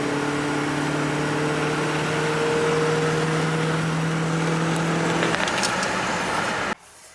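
A 1965 Chevrolet Impala with a Powerglide transmission accelerating, a steady, loud engine drone rising slightly in pitch, then dropping off abruptly near the end.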